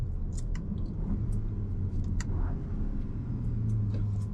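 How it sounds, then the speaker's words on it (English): A 2026 Volkswagen Tayron R Line family SUV engine during a downshift, heard as a steady low rumble from inside the cabin that swells into a brief rising drone near the end, with no talking. "Let me just downshift."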